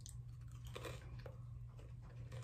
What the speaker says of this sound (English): it has a crunch.